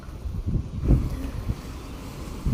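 Strong wind gusts across an open rooftop terrace, making a rumbling, buffeting roar that swells and dips unevenly with no voices.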